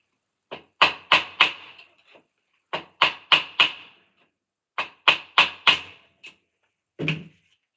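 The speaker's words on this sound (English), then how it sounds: "First, let's try it with this hammer." A hammer strikes metal, tapping out a bearing from a bicycle hub, in three rhythmic bursts of four or five sharp taps each, loud and close, with short pauses between bursts.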